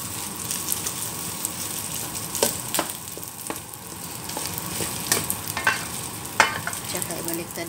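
Rice fries in a hot pan with a steady, soft sizzle, broken by scattered scraping and clinking from stirring.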